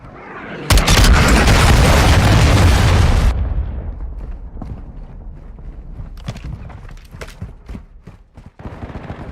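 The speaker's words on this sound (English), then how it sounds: "Hostile cruise missile" Cruise missile strike in Modern Warfare II, a sudden loud explosive blast with a heavy low-end roar lasting a few seconds, then fading into scattered distant impacts and crackles.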